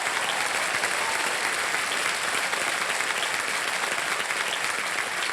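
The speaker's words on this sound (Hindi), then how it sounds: "तालियां बज जाए जया जी के लिए" A TV game show studio audience applauds, a dense, even roar of many hands clapping at close range, sustained and loud from start to finish with no talking over it.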